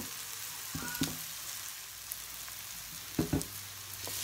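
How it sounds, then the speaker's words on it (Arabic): Peppers, onion and garlic fry quietly in a pan for meatloaf, a soft continuous sizzle with a few brief clinks of stirring. "راه تحمس هذاك الفلفل والبصل والثوم"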